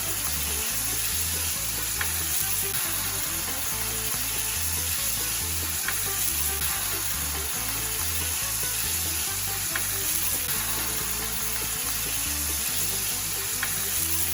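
Beef entrecote steak fries in a hot pan with a steady, loud sizzle and crackle that runs unbroken throughout, with no voices over it.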